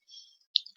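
A couple of small, sharp clicks from a computer mouse, close and faint, with a thin high hiss just before them.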